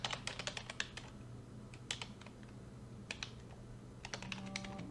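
Computer keyboard typing up close as a new username is entered, quick bursts of light key clicks separated by short pauses over a faint steady room hum.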